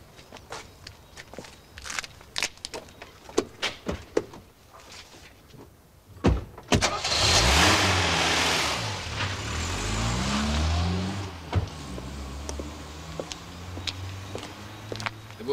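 A car starts and drives away on a street: scattered footsteps and door sounds come first, then a loud engine rises and revs for several seconds before fading back to small, sharp clicks and steps.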